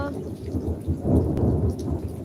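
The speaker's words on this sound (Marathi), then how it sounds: "पाऊस सुद्धा लागलेला आहे विजा व्हायला लागलेत" Heavy rain pours down during a thunderstorm with lightning, a dense steady wash of falling water broken by a loud thunder rumble that swells near the middle.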